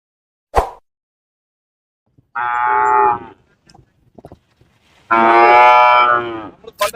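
Cattle at an outdoor cattle market held at the Isha Yoga Center give two long, loud, close moos a couple of seconds apart, with scattered knocks and small noises between them.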